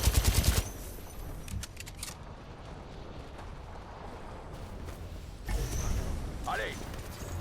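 In the shooter game Titanfall 2, an enemy Titan fires at the player: a rapid opening burst of heavy automatic gunfire, then a low rumbling lull, and a fresh surge of noise near the end, with someone talking over it.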